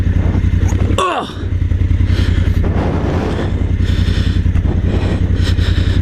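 A dual-sport adventure motorcycle running a Kenda Big Block 80/20 street-biased tire loses traction on loose dirt, its engine droning steadily and loud up close, with a brief scrabbling surge near the start as the rear end slides around.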